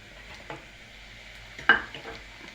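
Poha and potatoes being stirred in a pan with turmeric, onions and peanuts, giving a faint low sizzle and a few soft scraping knocks, one sharper clink near the end.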